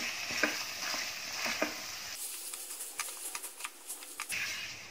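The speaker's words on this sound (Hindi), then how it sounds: "इसको 2 मिनट तक ऐसे ही भूनेंगे।" Potatoes with turmeric and other spices frying in a pan for aloo matar pulao: a soft continuous sizzle with rapid light clicks and scrapes of stirring, quiet and close, no talk.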